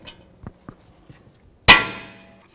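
A rubber mallet hits a lower control arm part on a 2008-12 Chevy Malibu front suspension in a single sharp metallic clang that rings out and fades, after a few faint taps and knocks.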